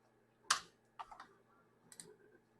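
Several sharp keystrokes on a computer keyboard, one louder tap and then short clusters of clicks spaced across about two seconds, close and quiet in an otherwise still room.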